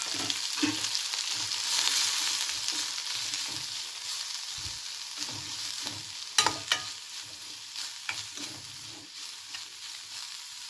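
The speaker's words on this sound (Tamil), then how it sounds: "தேங்காய் வதங்கிருச்சு" Grated coconut and onions sautéing in a pan for a Tamil fish curry, with a steady close sizzle and intermittent stirring scrapes and clinks of a spoon against the pan.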